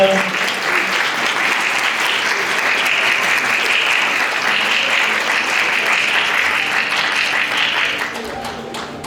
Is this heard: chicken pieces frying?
no